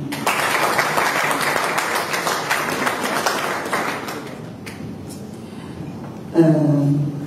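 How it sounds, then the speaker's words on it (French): An audience at a presentation in Yaoundé applauds warmly for about four seconds, then the clapping fades into room noise before a voice briefly speaks near the end. "J'aimerais qu'on applaudisse encore une fois pour celles qui sont passées avant nous."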